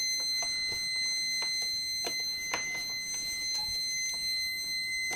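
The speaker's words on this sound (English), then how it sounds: "No, the beeping is here." A continuity tester's steady high-pitched beep runs while a faulty hairdryer cord is flexed, with scattered clicks and handling knocks over it, close and without talk.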